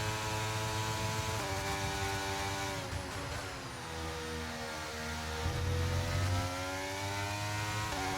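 Formula One car engine in a racing video game, a steady high-pitched whine holding near-constant revs with small shifts in pitch and a brief dip mid-lap, loud and alone without talk.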